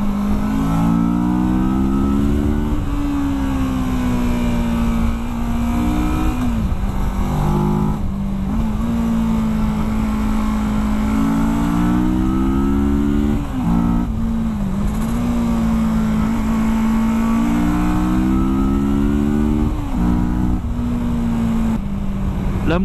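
A 2017 Kawasaki Versys 650 motorcycle engine drones loudly and steadily while riding, its pitch rising and falling with throttle changes, with no talk over it.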